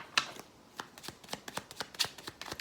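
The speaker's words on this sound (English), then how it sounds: "One more shuffle." Tarot cards are shuffled close by, in quiet, irregular flicks and soft snaps, with a couple of sharper riffles.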